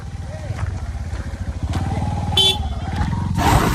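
A motorcycle engine putters steadily up close with a rapid rhythmic thrum, voices faintly underneath and a brief horn-like tone.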